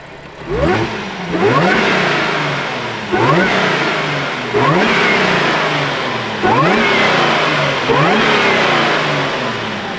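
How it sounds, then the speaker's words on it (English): An Audi S5 with its stock intake and hood open starts up, then revs repeatedly, five rising engine sweeps that fall back to idle, loud and close with no talking. "So we're gonna get a startup and sound test of this intake."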